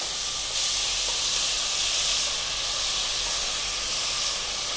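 Finely chopped ginger, green chilies and onions hit a hot oiled pan with curry leaves, giving a steady loud hiss and sizzle that runs unbroken and close, with no voices.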